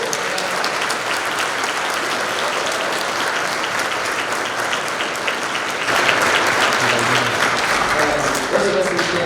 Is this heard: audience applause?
yes